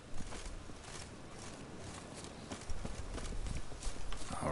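Goat hooves clip-clop in a steady walking rhythm across ground in The Witcher video game, close and moderately loud over a low rumble of ambient noise.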